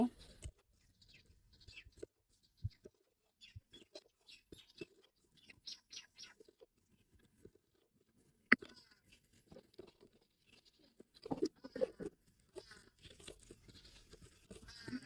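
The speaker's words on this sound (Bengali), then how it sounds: "বন্ধুরা এবার পেঁয়াজ কুচি কুচি করে নেব" An onion is chopped finely with a knife on a board, with irregular close taps and crisp cuts that quicken into denser bursts near the end, under a quiet, mostly still room.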